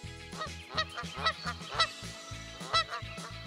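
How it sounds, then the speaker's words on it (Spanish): A goose honks repeatedly in short, nasal bursts, fairly close, with a steady rhythm of calls and no voices. "el ganso se escapó de verdad"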